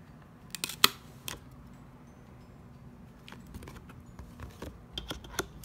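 A corner punch clicks and snaps as it cuts through paper. Several sharp, close clicks come in small clusters over a quiet background, with no voice.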